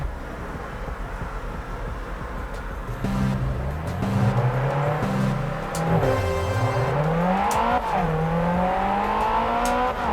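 A drag race car in Japanese Drift Master launches and accelerates hard, its engine note climbing through several gears with clear drops at each shift. The loud, close whine follows a low idle rumble at the start.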